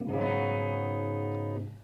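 A single strummed guitar barre chord fretted with only the index finger rings out for over a second, sounding thin and slightly buzzy before it is cut off.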